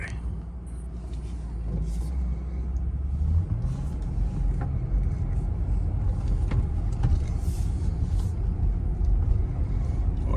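A Mercedes SL600 with a V12 engine and coilover conversion pulls away and drives, a low engine rumble rising as it gets moving, then steady road and cabin noise with faint clicks inside.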